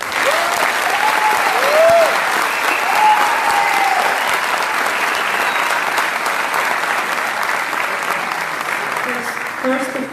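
Audience applause at a ceremony for young Réunion footballers, dense and sustained for the full ten seconds with a few faint whistles near the start, staying steady and loud before easing slightly at the end.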